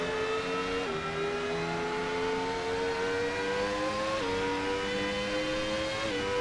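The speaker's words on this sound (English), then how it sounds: "Little bit of transmission noise, very nice." A Williams FW19 Formula One car's V10 engine screams at high revs with gearbox whine in a racing video game, the steady pitch dropping sharply at quick gear changes.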